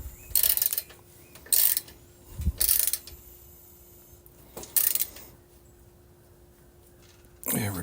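Bolts snugged down one after another on a patio swivel rocker, giving several short, crisp bursts of metallic ratcheting with quiet pauses between them, close by.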